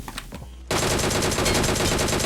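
Automatic gunfire in the mobile battle royale game PUBG Mobile: a loud, sustained rapid burst that starts abruptly and runs to the end, after a brief quieter moment.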